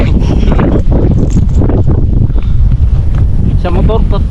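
Steady wind roars across open water, a loud, continuous broadband rush with microphone buffeting throughout, joined by a brief voiced sound near the end.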